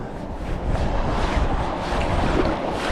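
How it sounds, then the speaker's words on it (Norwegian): Wind blows steadily across a cold winter sea shore where small waves come in, a continuous broadband rush with a low rumble of gusts against the microphone, unbroken and without speech. "men det blåser litt mye, feil retning."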